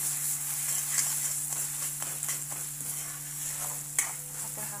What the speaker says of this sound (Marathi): आपला छान आता हा कांदा आणि मसाला दोन पण परतलेले आहे